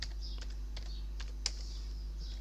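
Keys clatter on a computer keyboard as a sudo command and password are typed into a Kali Linux terminal, a quick irregular run of close, light taps over a low steady hum.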